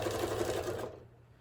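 Sewing machine stitching a zigzag on a fabric cover for a solar power bank, a quick rapid whirring run up close that stops abruptly partway through.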